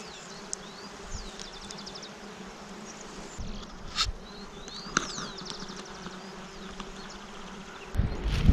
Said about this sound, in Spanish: Si nos dejan las abejas, porque están bastante bravas también.